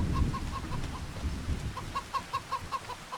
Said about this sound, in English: Hello, Mrs. Hen. Look after your babies.